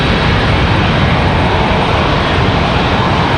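A Contour Airlines airplane moves at Charlotte Douglas International Airport, giving a steady, loud broadband engine roar that holds evenly throughout with no talk.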